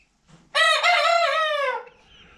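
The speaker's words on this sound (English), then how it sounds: "So I'm guessing that's 5 roosters." A rooster from a flock of several crows once, loud and close, a drawn-out cock-a-doodle-doo with a brief soft cluck before it and quiet after.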